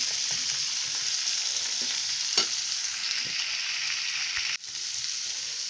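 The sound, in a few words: stirring mixed vegetables (peas, beans, carrots, corn) in a pan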